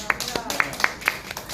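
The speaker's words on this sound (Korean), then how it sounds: "이때 박수가 나와야지" A few scattered handclaps from an audience at a church gathering ring out sparsely, about four sharp claps spread over a moment, with a voice faintly underneath.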